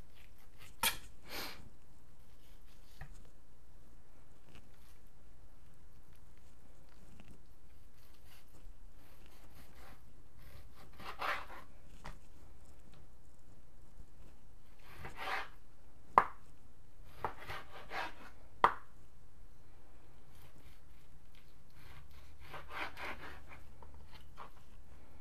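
A knife cutting stew meat on a board: soft scattered slicing and scraping strokes, quiet and close, coming in short bursts separated by pauses, with a few sharper taps as the blade meets the board.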